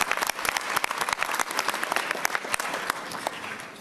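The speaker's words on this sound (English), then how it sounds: "Yes, you can clap on that, absolutely." A gala audience applauds, dense steady clapping from a large crowd filling the room for a few seconds, loud and continuous with no speech over it.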